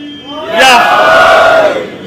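A congregation at a first-of-Muharram majlis chants a religious slogan in unison. One loud collective shout swells quickly and holds for over a second before fading.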